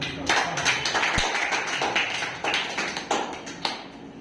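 Scattered applause from a small group, uneven claps overlapping steadily for a few seconds.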